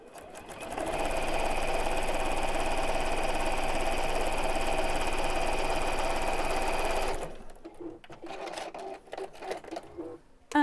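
A sewing machine top stitches fabric in a fast, even mechanical whir that runs for about six seconds, then stops, leaving quieter handling clicks and rustles.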